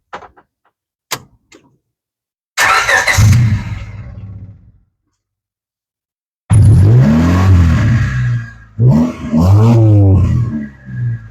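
A Honda Civic engine cranks and catches after a new ignition install. A short burst of mechanical noise is followed by a pause, then a loud, sustained run with rising and falling revs.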